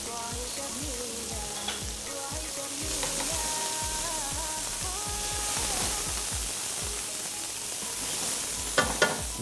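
Chopped onion and minced garlic fry in a pan for kabkabou, a steady close hiss of sizzling oil with soft stirring scrapes and faint clinks, while light background music plays underneath.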